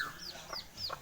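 Village chickens clucking close by, several short rising clucks in quick succession over quiet outdoor ambience.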